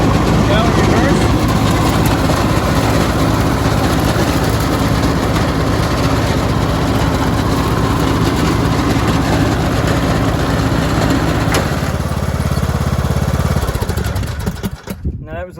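A Craftsman T2600 lawn tractor engine runs loud and close while reversing, a steady rough mechanical drone that holds throughout and then cuts down abruptly at the end.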